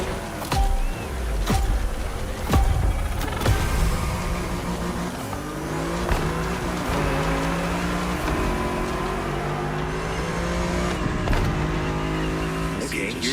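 Mercedes-AMG C63 engine in The Crew Motorfest, revving and accelerating hard at close range with shifts in pitch, tire squeal and passing traffic, loud and continuous throughout with no talk.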